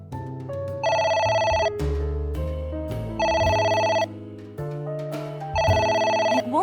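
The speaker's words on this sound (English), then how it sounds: "It won't stop ringing." A telephone rings in the video game AI: The Somnium Files. Three loud, bright ringing bursts repeat at a steady pace over a low tonal background, with no talking.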